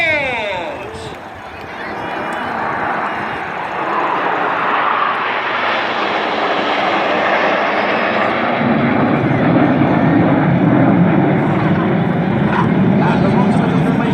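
Red Arrows jets flying in formation at the Rhyl airshow, a loud continuous jet engine roar building and holding steady overhead while a commentator talks over it.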